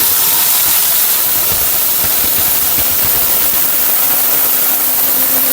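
An Orpat blender grinds lentils, a loud, dense whirring roar with hiss that holds steady and close throughout, no voices.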